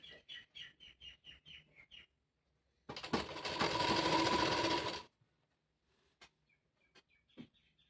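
A pedal-operated sewing machine stitches a saree border in one loud, steady run of about two seconds, after a series of bright bird chirps; faint chirps continue once the machine stops.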